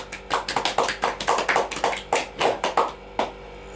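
Scattered applause from a small group, a few sharp overlapping claps in uneven bursts, close and moderately loud, with no talking over it.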